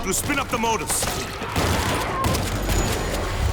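Gunfire in the zombie shooter World War Z: a loud, dense barrage of shots and booms rolls on steadily and close, with a voice talking over the start.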